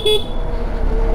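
A car horn sounds in busy road traffic, one short honk near the start over steady engine and road rumble, with a faint second tone later.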